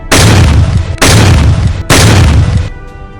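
Three loud shotgun blasts in quick succession, each a heavy booming crack with a long sustained roar that runs into the next, the last one fading out.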